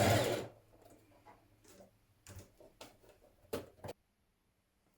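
A sewing machine stitches a skirt to a dress bodice in short, uneven bursts of rapid ticking, close and moderately quiet, stopping before the end.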